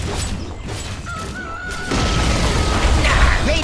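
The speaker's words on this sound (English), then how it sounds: "Radiant's middle tower has fallen!" A tower collapsing in the Dota 2 video game, heard as a loud crashing boom with rumbling debris that swells midway and continues dense and steady to the end, with a tonal game announcement sound beneath.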